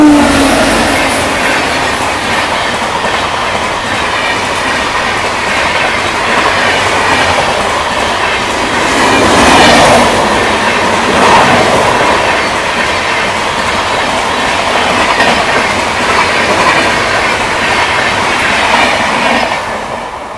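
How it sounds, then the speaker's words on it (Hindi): The Guwahati Bangalore Express rolls past on the adjacent crossing track, a loud continuous rumble with rhythmic clickety-clack of wheels over rail joints and faint wheel squeal, heard close by throughout. "बगल से ये अभी क्रॉसिंग जो हमने बताई थी गुवाहाटी बेंगलोर एक्सप्रेस आ गई है।"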